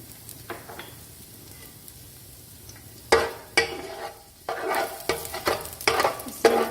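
Chopped garlic sautés in two tablespoons of hot oil, quiet at first, then a spoon scrapes and stirs through it in loud, irregular bursts of sizzling and clatter.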